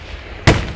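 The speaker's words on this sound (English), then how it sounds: "Now that's a big firework" A big July 4th firework bursting, a single sudden loud boom after a moment of quiet, fading quickly into a short rumbling tail.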